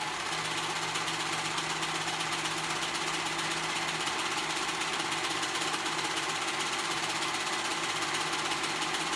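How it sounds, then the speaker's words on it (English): A sewing machine runs steadily, stitching together the raw side edges of children's pajamas, with a constant close mechanical whir and hum throughout and no speech. "we're gonna sew those sides,"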